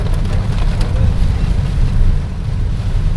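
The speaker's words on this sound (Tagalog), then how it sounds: "Madilim na po ang kapaligiran kasi nga po sobrang lakas ng ulan" Heavy rain pours down in a loud, dense, steady roar with no pauses, heard close and alone without any talking.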